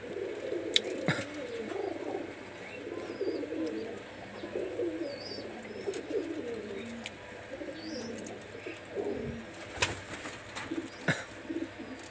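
A pair of Pakistani high flyer pigeons coo softly and repeatedly up close, in a steady rippling rhythm, with a few sharp knocks and faint background noise.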